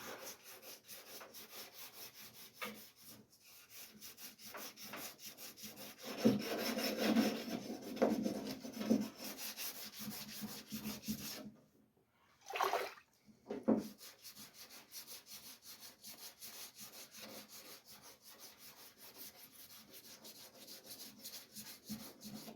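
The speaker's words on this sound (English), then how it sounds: "this should be the last little bit of sanding work I need to do" Rhythmic back-and-forth rasping of 320-grit wet sandpaper rubbed on a surface, close and steady, with a brief pause partway through before the strokes resume.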